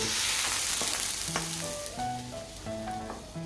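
Hot tempering poured into a Kerala pumpkin and moru curry sets off a loud, steady sizzle that fades slightly over a few seconds, with faint background music and no talking.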